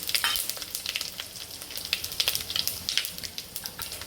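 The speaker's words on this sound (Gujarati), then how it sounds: "તેલ ગરમ થઈ ગયું છે તો રાઈ નાખીશું।" Mustard seeds crackle and pop rapidly in hot oil, a dense, bright sizzling close by with no talking.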